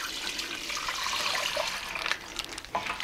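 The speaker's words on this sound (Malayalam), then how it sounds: "ഇതിലേക്ക് നമുക്ക് ഞാനിപ്പം 1 ലിറ്റർ പാലും 1 ലിറ്റർ വെള്ളവും കൂടിയാണ് ചേർത്ത് കൊടുക്കുന്നത്." Milk being poured into an uruli pot for palada payasam, a steady close splashing stream of liquid running for a few seconds with a few louder gurgles near the end.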